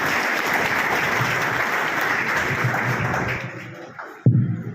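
Loud applause from an audience at a coaching institute program, thick continuous clapping that thins out and fades near the end, followed by a brief knock.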